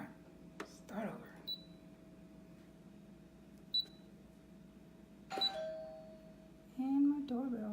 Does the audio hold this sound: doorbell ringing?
yes